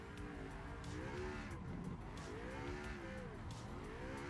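Drift car engine in a racing video game, droning steadily with wavering pitch as the car runs wide through a corner, a sustained mid-level hum with brief rises and dips.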